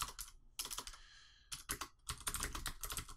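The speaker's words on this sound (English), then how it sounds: "And I know you can hear my keyboard, by the way," Close, crisp computer keyboard typing comes in quick bursts of keystrokes separated by short pauses, clear and alone, with no talking.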